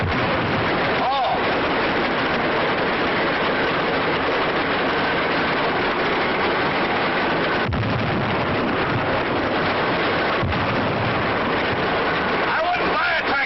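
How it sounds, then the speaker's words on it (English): A loud, continuous 1930s tractor engine roar fills the whole stretch, harsh and close, with a couple of sharper bangs standing out partway through. "I wouldn't buy a tractor that made so much noise."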